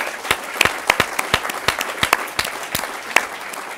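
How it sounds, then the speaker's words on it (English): Audience applause at an open source conference talk, a moderate round of sparse individual claps with distinct sharp hand strikes, fairly close and clear, with no talking over it. "Round of applause to R."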